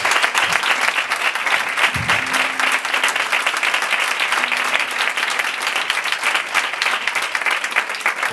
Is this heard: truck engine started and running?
no